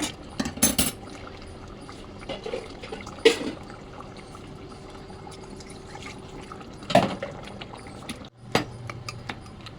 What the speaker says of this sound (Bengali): একটুখানি গরম জল করে এতে দিয়ে দেবো